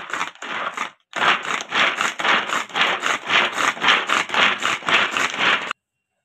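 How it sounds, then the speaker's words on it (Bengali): A hand-pulled vegetable chopper minces ginger and garlic in a home kitchen, giving about a dozen brisk, evenly spaced crunching, rattling bursts close by after a short pause, with no talking. "এই ভেজিটেবিল চপারের মধ্যে আমি এখন আদা আর রসুন কুচিটা দিয়ে দিচ্ছি, চপ করে নেবো ভালো করে।"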